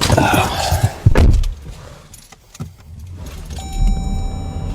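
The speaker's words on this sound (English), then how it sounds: "Start your car so it can warm up before you drive in it." A car is started on a cold morning: a loud burst as the engine catches and runs, a few clicks and key or door sounds, then a steady electronic dashboard chime over the idling engine.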